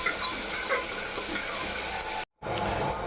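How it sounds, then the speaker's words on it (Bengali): Spice masala with ginger, garlic, chili, cumin, onion paste and chopped tomato frying and being stirred in a pan, a steady close sizzle with soft scraping, broken by one brief cut near the end. "এবার মশলাটাকে লাল করে কষে নেব।"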